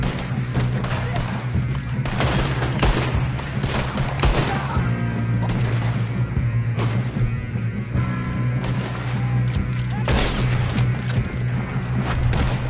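Gunfire in Red Dead Redemption 2 crackles in repeated loud shots and bursts across a chaotic firefight, with a constant low rumble beneath and voices talking over the action.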